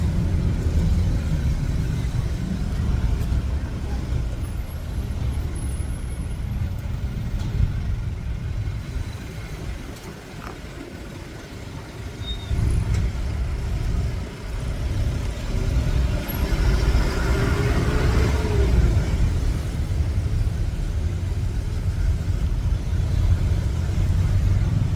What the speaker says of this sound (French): il y a beaucoup de deux roues, donc ça fait du bruit dans la rue